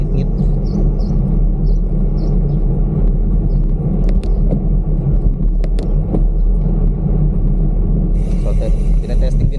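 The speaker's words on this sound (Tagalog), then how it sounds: "So medyo maingay yung bike natin." A noisy motorbike being ridden, its steady engine rumble and road noise dominating throughout, with a few faint squeaky creaks and occasional ticks on top.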